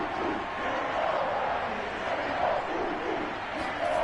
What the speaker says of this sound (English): Dog pound cheering there on the right side, just behind the end zone that they're facing